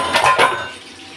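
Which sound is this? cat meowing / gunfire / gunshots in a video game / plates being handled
plates being handled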